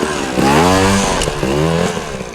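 A dirt bike engine revs hard twice during hill practice, each throttle blip rising and falling in pitch, loud and close with a brief dip between bursts.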